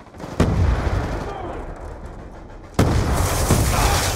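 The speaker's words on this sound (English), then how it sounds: "That shotgun shell went right at his face." Shotgun blasts in Call of Duty: Black Ops 2 multiplayer, two loud sharp booms a couple of seconds apart, each followed by a sustained rumbling roar of game noise.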